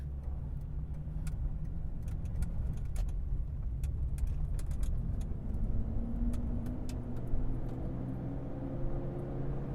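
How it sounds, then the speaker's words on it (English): 2002 Toyota Tundra pickup truck accelerating hard through its gears, heard from inside as a low, steady engine drone with rising tone and faint ticking and rattles, fairly quiet overall. "we'll do a pretty hard acceleration as well, just to go through all the gears and everything"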